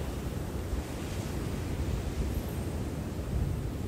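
Atlantic Ocean surf at a beach in Natal, Rio Grande do Norte, Brazil, a continuous broad wash of waves with wind buffeting the microphone, no talk.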